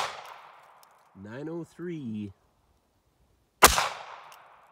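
A single sharp gunshot from a .380 ACP pistol firing Underwood 90 gr ammunition over a chronograph, loud and close with a ringing decay, following a spoken number.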